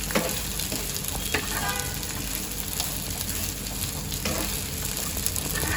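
Sabudana and coarse peanut powder are stirred together in a frying pan, a continuous close sizzle with soft scraping strokes of the spoon and no talking.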